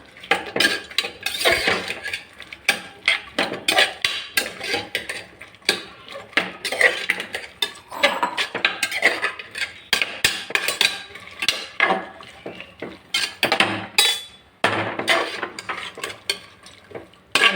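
Spoon scraping and stirring mushroom pulao with green peas in a metal pan, a busy run of clinks and scrapes with light sizzling underneath, close and steady throughout.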